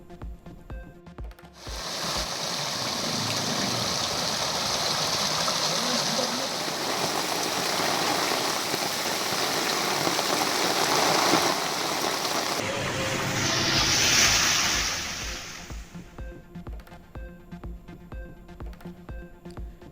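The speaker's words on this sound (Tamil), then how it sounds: "சாலைகளில் 3 அடி உயரத்திற்கு பெருக்கெடுத்து ஓடும் வெள்ளம்" Floodwater about three feet deep rushes along streets after heavy rain, a loud, steady roaring wash lasting most of the stretch before easing, with faint news music at the edges.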